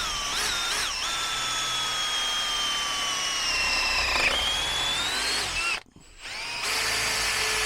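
A power drill fitted with a standard wood bit bores through a rubber gearbox mount on a VW T25 van, whining loudly and steadily up close, with a brief dip in pitch near the end before it runs on.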